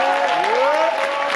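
A church congregation at a 2019 Christian congress claps and cheers, a brief burst of crowd applause with a raised voice sliding over it.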